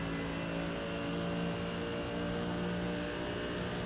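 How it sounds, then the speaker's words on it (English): Prototype race car engines drone and whine steadily in an iRacing sim race, several cars running close together at a constant loud pitch with no talking. "sounds like the prototypes are getting dicey with with each other"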